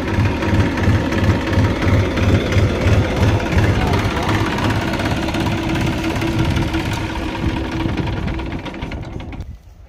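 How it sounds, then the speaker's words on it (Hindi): A Massey Ferguson tractor engine idles in neutral with a steady, loud, knocking diesel chug that runs continuously before cutting off abruptly near the end. "ट्रैक्टर जो है बिल्कुल भी जोर मारने को तैयार नहीं है कि किस तरह ट्रैक्टर के जोर हो"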